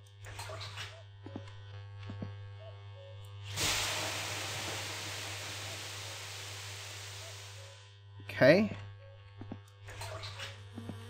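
Water drains in the My Summer Car video game as a steady hiss that runs for about four seconds and then stops abruptly, with a brief spoken word and a few clicks around it.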